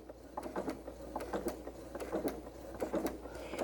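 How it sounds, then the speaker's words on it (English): Sewing machine stitching a log cabin quilt seam, a faint rhythmic mechanical clicking and whirring, quiet and close with no voice. "I'm going to stitch along that line"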